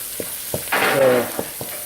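Rainbow chard stalks cook in a pan with a steady sizzle that swells for about half a second, framed by a few soft clicks of a utensil against the pan.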